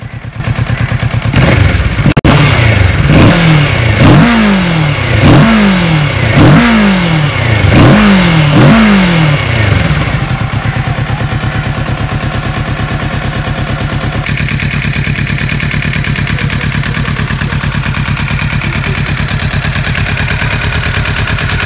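A Kawasaki Z650 motorcycle engine catches and revs in a series of rhythmic throttle blips, then settles into a steady, loud idle with a rumbling exhaust.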